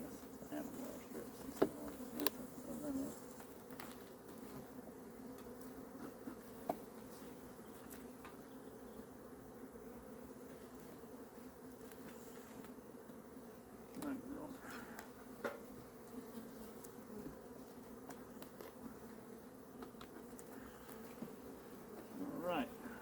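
Honey bees hum in a steady, fairly quiet drone from an open hive being inspected in mid October, with frames loaded with pollen. Occasional handling clicks and bumps break the buzz.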